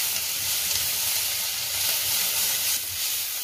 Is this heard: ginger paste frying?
yes